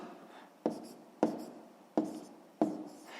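Numbers being written by hand while solving a sixth-grade math exercise, four distinct close scratchy pen strokes in a slow irregular rhythm, quiet and without talk.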